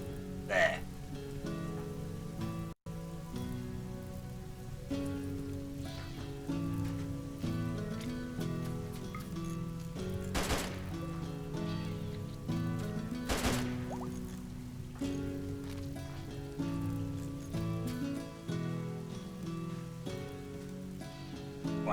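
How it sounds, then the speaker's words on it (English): Foggy rain in the video game RimWorld falls as a steady soft patter beneath game music and tones, with a couple of sharp louder hits standing out along the way. "I'm aware it's currently foggy rain, which is an annoyance"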